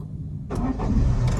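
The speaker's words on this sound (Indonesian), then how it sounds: "untuk nyalakan mesin itu dia harus kopling dulu, baru dia start" A manual Honda Brio's engine is started after half a second of quiet, catching abruptly and settling into a steady, close idle rumble.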